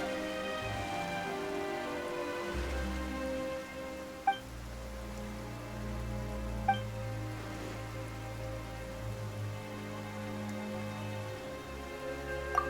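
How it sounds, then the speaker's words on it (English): Steady video game rainfall hisses evenly beneath low sustained musical tones, with a few faint bright chimes scattered across the stretch, near the Fortress of Meropide. "Why is it raining all of a sudden?"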